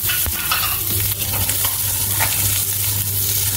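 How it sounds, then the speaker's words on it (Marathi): Onion frying in a spoonful of oil in a small iron wok, a loud close continuous sizzle with a low hum beneath and occasional scraping stirs, no speech. "त्याच्यामध्ये कांदा भाजून घ्यायचा आहे।"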